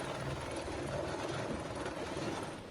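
Helicopter evacuating a rescued climber from a cliff face, its rotor and engine roar steady and loud throughout, a dense continuous drone with no voices.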